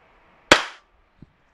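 WE Glock 17 Gen5 airsoft gas pistol firing a single sharp, loud crack with a short decaying tail, followed by a faint click in an otherwise quiet room.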